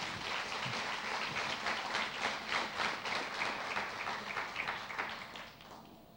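A crowd claps loudly and steadily for several seconds, then the applause fades out near the end.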